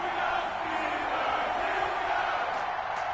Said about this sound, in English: This crowd is ready as their guys get set to match up between the Detroit Lions and the Pittsburgh Steelers.